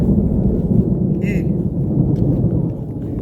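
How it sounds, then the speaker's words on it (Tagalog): Thunder rolls low and heavy during a very strong rainstorm, a deep continuous rumble that swells and settles while rain pours, with a short voice sounding briefly partway through. "Grabe ang kulog."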